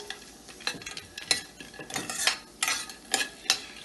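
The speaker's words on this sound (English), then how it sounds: "Next I am adding turmeric. Mix everything well." Onions with turmeric and roasted peanuts are stirred in a pan, with repeated scraping strokes of a utensil at an irregular rhythm over a faint sizzle.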